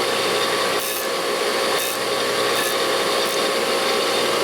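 A cut metal tube edge is chamfered with an abrasive tool, producing a loud, steady grinding rasp punctuated by a few brief bursts of brighter scraping as the tool is repositioned.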